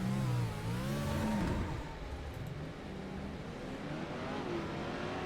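Modified race cars accelerating hard on a short oval track, engines rising in pitch together in a loud, sustained roar that eases slightly midway and then climbs again.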